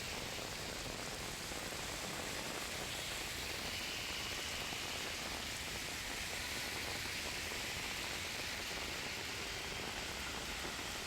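Steady, heavy rain falls across Dadar in Mumbai, a dense continuous hiss that keeps the same level throughout with no breaks or voices.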